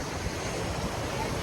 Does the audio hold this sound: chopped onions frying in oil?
no